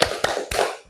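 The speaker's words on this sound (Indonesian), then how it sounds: "kita tepuk fokus dulu ya" Classroom focus clapping led by a teacher with children: three sharp, evenly spaced hand claps in quick rhythm, close and crisp, with no talking over them.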